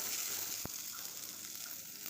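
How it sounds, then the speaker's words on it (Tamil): Small onions and curry leaves sauté in hot oil for a Chettinad sundakkai pachadi, giving a faint, steady sizzle with one brief clink of a utensil. "சின்ன வெங்காயம் கட் பண்ணி வச்சுருக்கேன், அதை சேர்த்துக்கலாம். அது நல்லா வதக்குங்க."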